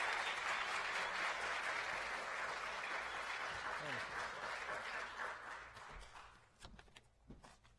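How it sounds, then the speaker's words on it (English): An auditorium audience at a university celebration of forty years of service applauds steadily as a speaker walks to the stage, the dense clapping thinning out over the last seconds into a few scattered claps and faint knocks. "Please give him a round of applause as he comes up to the stage."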